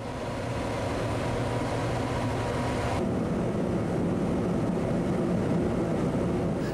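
A survey airplane fitted with a special camera drones steadily as it flies over the southern Korean coastline at Jinhae, a continuous loud engine hum that shifts slightly in tone partway through, with no voices.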